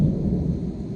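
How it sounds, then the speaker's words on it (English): Thunder rolls through a thunderstorm as a deep, continuous low rumble that stays fairly steady and loud for the whole second, with no voices over it. "So that's lightning. And that's thunderstorm."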